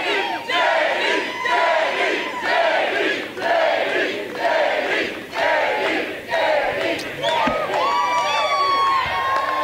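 A large crowd at a campaign rally in Marne, Michigan, cheering and roaring in repeated loud surges, each swell lasting about a second and separated by brief dips, with shouting voices throughout.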